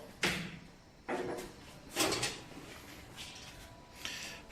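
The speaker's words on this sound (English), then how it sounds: "open the door." Vending machine door being opened, a series of sharp metallic clicks and thumps at roughly one-second intervals, close and fairly loud against a quiet room.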